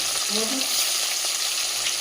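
Vegetables fry in a pan with a loud, dense, continuous sizzle close by. A faint clink sounds briefly at the start.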